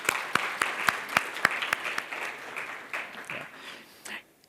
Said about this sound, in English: give him a good round of applause for that